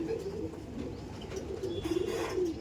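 A Madrasi pigeon of tournament quality coos softly and repeatedly in a home loft, low throaty calls close by over a faint background hum.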